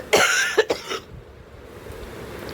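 A person coughs a few times in quick succession close up, then the sound drops to quiet background.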